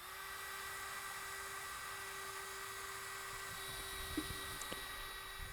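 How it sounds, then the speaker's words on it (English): A drill mixes StreetBond concrete primer in a bucket at relatively slow speed, giving a steady, unbroken motor whine with a couple of faint knocks near the end. "I'm going to drill mix this at a relatively slow speed."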